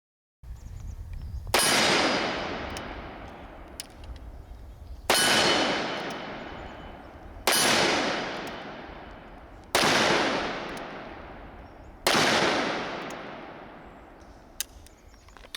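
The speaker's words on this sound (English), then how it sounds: "Go ahead and shoot single hand now." A Smith & Wesson 629 .44 Magnum revolver fired single-handed at a range: five loud, evenly spaced shots, each with a sharp blast and a long ringing decay.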